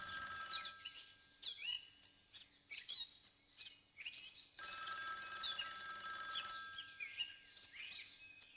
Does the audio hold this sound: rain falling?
no